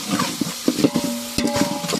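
Tomatoes fry in a pan with ginger-garlic paste for a large village-style fish biryani, giving a steady sizzle broken by repeated spoon-scraping stirs and clunks.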